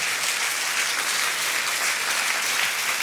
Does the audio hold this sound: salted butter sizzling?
no